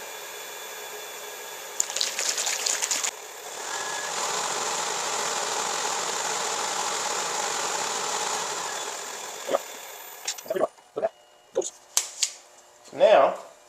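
A wood lathe spins steadily while shallow wax is pressed against wooden knitting needles, giving a sustained motor whine and rubbing hiss that then winds down into a few sharp knocks and handling clatter.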